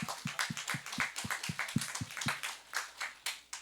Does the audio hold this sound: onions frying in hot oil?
no